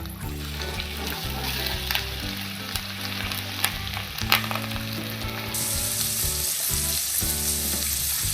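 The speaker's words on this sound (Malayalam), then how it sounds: "സവാള ഒന്ന് സോഫ്റ്റ് ആവുന്ന വരെ നമുക്കൊന്ന് വഴറ്റി കൊടുക്കാം." Onion and mixed vegetables sautéing in a pan for vegetable biryani, a steady close sizzle and crackle with intermittent stirring scrapes, no talk.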